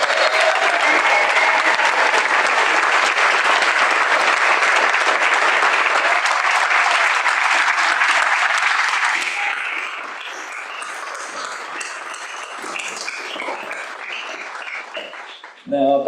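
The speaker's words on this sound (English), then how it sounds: "Let's give our PAFA graduates another big round of applause." Sustained applause from a large audience greets graduates at an art school's commencement ceremony, loud and dense at first, then thinning to scattered claps that fade out.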